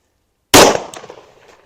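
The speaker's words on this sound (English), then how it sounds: "I really like shooting this gun." A handgun fires a single shot into ballistic gel: one sudden, loud, sharp crack followed by a ringing, reverberant tail that fades over about a second.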